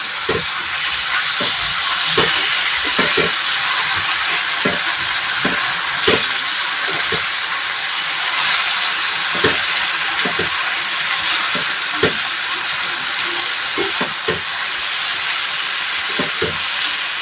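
Ridge gourd sautés in a hot pan, a continuous loud sizzle and hiss punctuated by regular scraping stirs of the spatula, close and steady without any talk.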